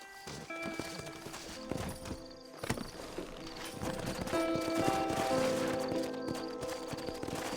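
Horse hooves clip-clop in the video game Red Dead Redemption, a steady walking rhythm of hoof falls under game music and ambient tones, moderately close.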